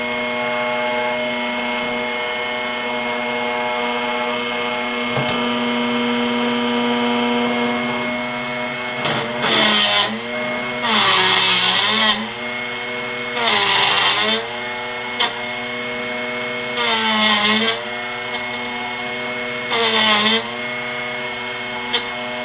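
A steady motor hum runs throughout, broken by several loud grinding bursts as a carbide drill bit is sharpened in a drill bit sharpener, each lasting about a second, spaced irregularly.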